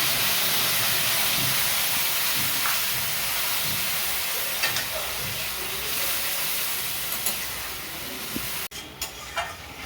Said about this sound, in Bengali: এটা পেঁয়াজ পেস্ট করে নিয়েছি, পেঁয়াজটা দিয়ে দিচ্ছি।